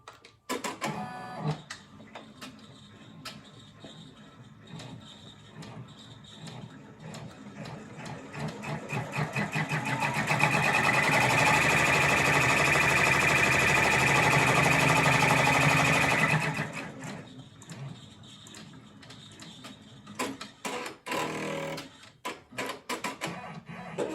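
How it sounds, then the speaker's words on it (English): An embroidery machine sews a placement stitch onto fabric for the top of a fall acorn decoration. It whirs and chatters steadily for several seconds in the middle, with quieter clicks and handling noises before and after. "now we'll do the placement stitch for the top of the acorn"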